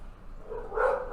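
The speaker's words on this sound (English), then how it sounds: "They're in a barking contest. They're barking to people on the street." A dog gives a single bark toward the end, fairly faint and set against a steady room background with no talking.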